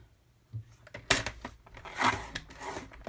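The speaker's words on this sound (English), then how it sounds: "we're going to score it from the side" Paper being scored on an envelope punch board for a candy wrapper treat holder, heard as a few close, short scraping and rasping strokes with quiet gaps between them, no talking.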